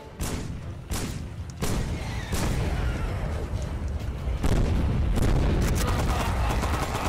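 Sustained machine gun fire in a first-person video game, loud, dense bursts of rapid shots running continuously with heavy booming impacts underneath and hardly a pause.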